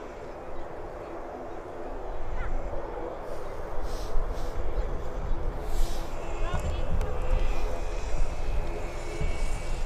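Aer Lingus ATR turboprop aircraft at Birmingham Airport, a steady broadband engine roar building gradually over about ten seconds with faint voices underneath.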